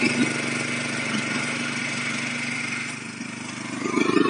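A small tiller engine, fitted with rotary cultivator tines, runs at a steady moderate drone, then its pitch shifts and the sound grows slightly louder near the end. The engine is heard alone.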